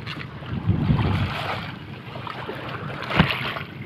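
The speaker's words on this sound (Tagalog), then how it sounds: "may alon dyan kasi medyo may hangin" Wind-driven waves on Laguna lake slosh and wash close by, mixed with rumbling gusts of wind buffeting the microphone, steady and fairly loud throughout.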